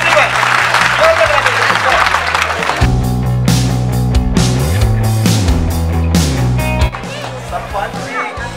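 Audience clapping at an Adopt A Village event in Jammu, dense and loud at first, then thinning into scattered claps with someone speaking over it through a sound system.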